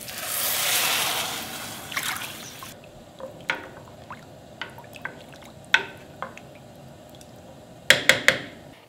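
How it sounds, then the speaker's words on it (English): Water pours from a container into a pot of rice and mung beans for porridge, a brief splashing gush followed by scattered drips and small trickles. "Then let's add water. 6 cups water."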